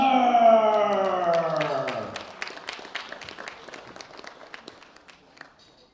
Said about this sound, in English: A big round of applause for our gold medal winner, Alexei Richter.